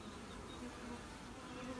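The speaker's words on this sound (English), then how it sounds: "you see the bees down in there" Honey bees in a package hum in a steady, faint, dense buzz that continues unbroken for under two seconds, with no voices.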